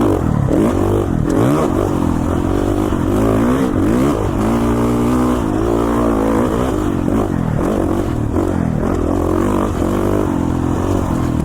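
Off-road motorcycle ridden on mountain single track in Idaho, engine loud and close throughout, revving up and down steadily as the bike climbs and shifts, with clatter and scrape of the trail mixed in.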